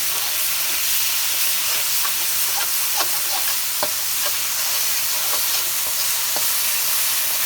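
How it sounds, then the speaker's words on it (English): Garlic is stirred into sizzling oil and sauce for a teriyaki chicken and shrimp stir fry, a continuous close sizzle broken by scattered scraping and clicking taps from the utensil. "To that, I'm going to add in 2 teaspoons of garlic. And give that a good mix."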